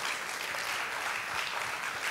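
Another round of audience applause at a youth speak-up event, brief, even and dense clapping throughout.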